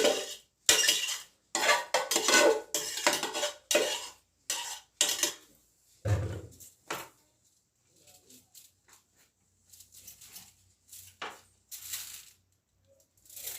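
Cooked rice being scooped and spread across a metal baking tray, producing close, clattering scrapes and clinks of a utensil against metal that fade into sparse, fainter taps toward the end, with some speech in the background.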